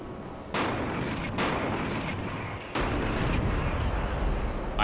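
Heavy booming impacts of gunfire striking an Iraqi tank in a wargame video game, several loud blasts over a dense continuous rumble, close and sustained with no speech.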